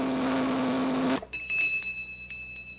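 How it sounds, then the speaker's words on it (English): A small bell on a flavor-meter machine in an old radio comedy show rings once with a bright metallic ding that fades over about a second, following a busy buzzing hum. "The better it tastes, the louder it'll ring the bell."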